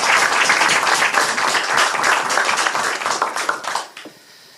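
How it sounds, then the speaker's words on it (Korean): Loud, close applause from Democratic Party members at a rally for the Incheon city chapter, many hands clapping in a dense rhythmic burst that fades out near the end. "뜨겁게 박수 한번 부탁드리겠습니다"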